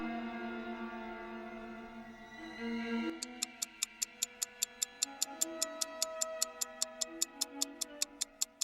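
A clock ticks loudly and evenly as a sound effect, sharp regular clicks starting a third of the way in, layered over a sustained eerie musical drone with no speech.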